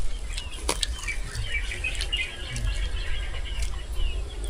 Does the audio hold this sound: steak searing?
no